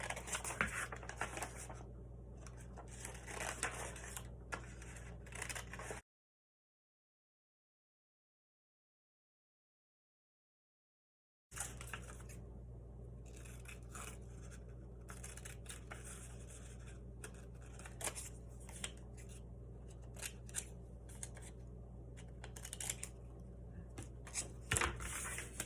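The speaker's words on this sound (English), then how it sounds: "So I'm cutting out the shapes that I traced on the graph paper." Scissors snip out traced shapes from sheets of graph paper in a series of small, steady cuts and paper rustles at close range, with a stretch of silence partway through.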